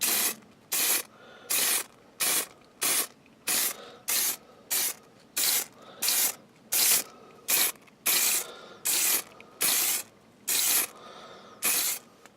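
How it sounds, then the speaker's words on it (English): Repeated short bursts of aerosol spray varnish on wooden reindeer Christmas decorations, hissing in a steady rhythm about once a second, close and loud, with brief pauses between each burst. "give a quick going over some spray varnish"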